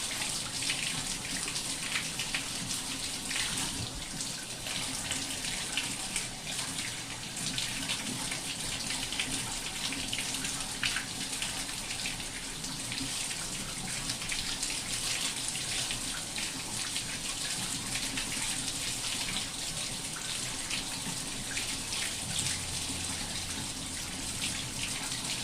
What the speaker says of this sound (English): This one could take a while to rinse out properly.